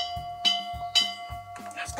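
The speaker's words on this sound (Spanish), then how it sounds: "Las campanas, ya va a comenzar la misa." Church bells ring before mass, with evenly spaced bright strikes and lingering ringing tones, heard over low background murmur.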